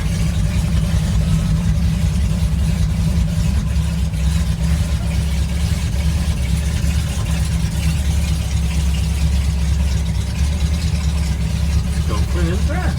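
A 1958 Ford F100 pickup engine runs steadily throughout, a continuous low rumble close by at moderate level with no clear revving.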